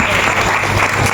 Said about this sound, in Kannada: ಚಿಕ್ಕ ಮಕ್ಕಳಿಗೆ ಖುಷಿಯಾಗಿಲ್ಲ, ಚಪ್ಪಾಳೆ ಹೊಡ್ರಿ